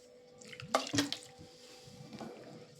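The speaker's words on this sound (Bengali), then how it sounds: "চালের গুঁড়োটা এই কলাগুলোর মধ্যে যেন ভালোভাবে মাখানো হয়ে যায়, তার জন্য এখানে আমি একটু জল দিয়ে দিলাম।" A little water splashed onto raw banana slices coated in rice flour in a bowl, a few close wet drips and squishy splats, brief and fairly quiet.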